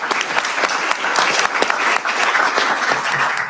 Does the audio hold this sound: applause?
yes